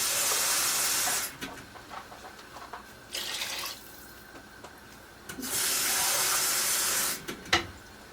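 Water is poured from a vessel into a hot pot of beef stew in two long hissing, splashing bursts, with dripping and small clinks between them, close by.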